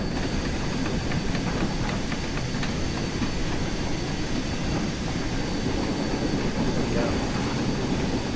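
LMS Fowler 4F steam locomotive in a train simulator, drifting with a light freight train on level track on the West Somerset line: a steady, dense rolling rumble of wheels and chassis that continues unbroken throughout.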